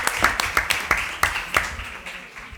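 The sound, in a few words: loud applause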